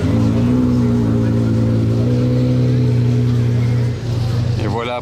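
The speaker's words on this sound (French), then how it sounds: "on a une Bugatti Chiron qui arrive juste derrière là-bas aussi" A Bugatti Chiron supercar driving past on the streets of Monaco during the Grand Prix weekend, a loud, deep, sustained engine drone close by that dips briefly, then rises again with a rising whine at the end.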